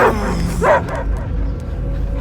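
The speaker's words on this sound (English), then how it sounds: "I hear only barking." Dogs bark and yip in Guardians of the Galaxy, with a couple of close, sharp barks at the start that give way to quieter whimpering amid low game ambience.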